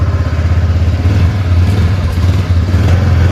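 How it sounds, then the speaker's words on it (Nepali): A motorcycle engine warming up runs loud and close, a steady throbbing idle with a slight rev partway through and no voices over it. "इन्जिन तताउनुपर्छ, नत्र फेरि बेकारमा सिज हुन्छ"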